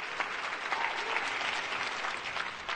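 Steady audience applause at a business marketing event, a dense, even patter of many hands clapping at moderate volume for the whole stretch, without talk over it.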